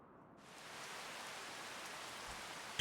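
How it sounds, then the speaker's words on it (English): Rain in the Farming Simulator 25 video game on the Iowa Plains View map, a steady hiss of rainfall that swells in after a brief quiet start and holds evenly, with no voices. "Oh, it's raining."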